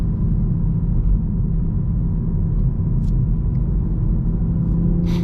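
Toyota Supra with manual gearbox pulling in second gear on turbo around 3,500 RPM on a mountain road, a steady loud engine rumble heard from inside the cabin, with a couple of faint clicks.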